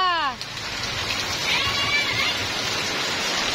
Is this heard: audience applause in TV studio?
no